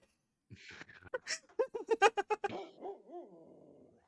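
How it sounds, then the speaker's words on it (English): An angry chihuahua barks in a quick run of sharp, high yaps, about a dozen in close succession, ending in whiny, rising whimpers, heard clearly alone against a quiet background. "That's one angry chihuahua."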